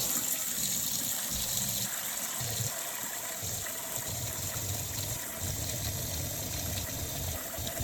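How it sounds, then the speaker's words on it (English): Hot water gushes steadily into a pan to rinse wool, a continuous loud pouring rush with no talk over it. "a quick rinse in the colander, and then we're going to fill the pan back up"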